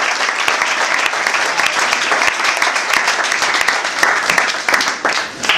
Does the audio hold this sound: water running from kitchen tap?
no